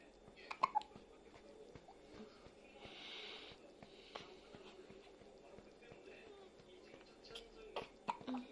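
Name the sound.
newborn baby hiccups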